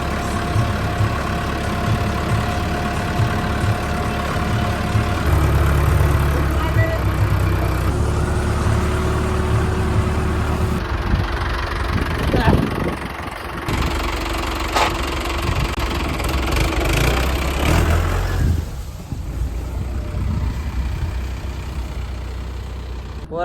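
A tractor engine runs steadily while driving along a rough road, a continuous low rumble with rattling and creaking bursts as it moves, no talking.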